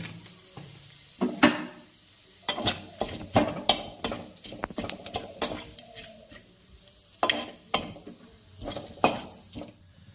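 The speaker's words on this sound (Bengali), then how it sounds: "আমি ওই মাছ ভাজার তেলের মধ্যে গোটা জিরে আর 2টো তেজপাতা ফোড়ন করে নেব" Crackling sizzle of whole cumin and bay leaves in hot oil left from frying fish, with sharp pops and scattered clinks of a utensil against a pan, no talking.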